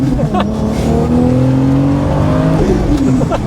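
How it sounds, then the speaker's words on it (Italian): Tuned Toyota Supra accelerating on a road under light throttle with its rear wheels spinning, a loud steady engine drone rising in pitch from inside the car, with brief tire chirps. "Sto dando poco gas perché guarda che sennò continua a sgommare."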